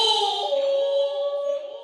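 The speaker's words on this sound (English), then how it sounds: "samurai scream" A samurai-style scream sample set in an Asian-flavoured hip-hop beat: one sustained, bright vocal yell holds steady for nearly two seconds over a layered, tonal backing.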